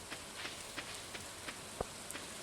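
Rain falling in the Stardew Valley video game, a faint steady patter with scattered soft droplet taps at irregular intervals and no voices.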